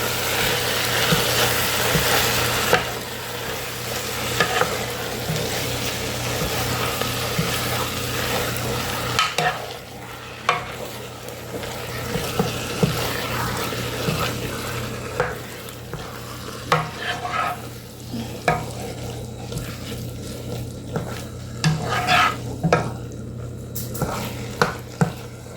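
Ground turkey is broken up and sautéed in a pan, with loud, close sizzling and repeated scraping, stirring strokes of a utensil against the pan, busiest at the start and then coming in uneven bursts.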